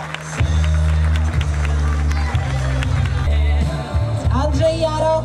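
A crowd at a rowing cup award ceremony applauds steadily and thickly for several seconds while a voice speaks over a loudspeaker and crowd chatter mingles in.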